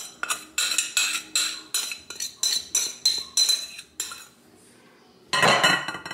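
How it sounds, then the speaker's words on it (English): Metal spoon scraping and clinking around a bowl of cheese and dry ingredients for fathead keto pizza dough, a run of rhythmic close scrapes, a short pause, then one louder scrape. "I'm going to scrape the sides and get as much of the cheese as I can"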